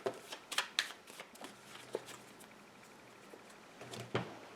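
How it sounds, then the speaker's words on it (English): A deck of Mythic Battles: Pantheon game cards being shuffled, quiet close riffles and flicks in short bursts at the start and again near the end, with soft handling between. "you're going to create your deck by shuffling these all together"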